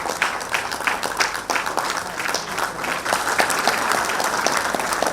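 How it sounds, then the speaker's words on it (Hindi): A hall audience claps vigorously at a Jharkhand Administrative Service Association felicitation of the Chief Minister, many hands producing a close, continuous roar with distinct individual claps flickering through. "जोरदार तालियों से"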